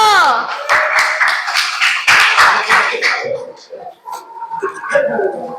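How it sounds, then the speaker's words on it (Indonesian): A classroom of children claps their hands in a quick burst of sharp, rhythmic claps, loud and close, followed by scattered talk and chatter. "Tepuk tangan dulu."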